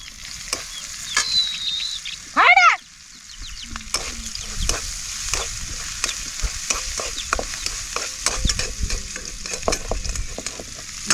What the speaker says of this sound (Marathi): कांदा परतून झाला